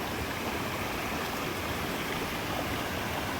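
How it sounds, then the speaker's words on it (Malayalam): A stream of water flows down from the rocks above at Idimuzhangampara, making a dense, constant rushing hiss that stays close and fills the whole moment without pause. "ആ മോളിൽ നിന്ന് ഒഴുകി വരുന്ന നല്ല പരിശുദ്ധമായ ജലമാണ്."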